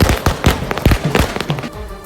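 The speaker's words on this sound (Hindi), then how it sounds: "जैसे ही जीत का ऐलान हुआ, वहां पटाखे फूटने लगे।" Firecrackers burst in a rapid, irregular string outside a municipal corporation office as people celebrate a victory announcement, with loud, sharp cracks crowding close together.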